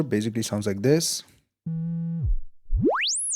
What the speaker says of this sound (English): Nothing too special, just a sine wave.